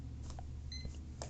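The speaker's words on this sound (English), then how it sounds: "alarm went off" Short electronic alarm beeps sound twice, thin and tonal at moderate level over a steady background hum, with no talking.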